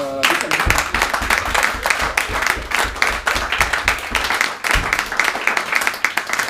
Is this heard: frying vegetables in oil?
no